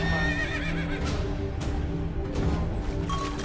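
A horse gives a wavering, loud whinny close by amid steady background noise and a few clip-clop-like knocks.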